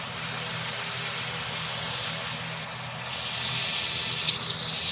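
ATR 72 turboprop airliner in the video game PTFS, its propeller engines giving a steady, moderately quiet drone that holds even throughout, with a couple of small clicks near the end.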